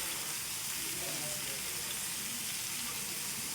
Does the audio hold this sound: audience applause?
no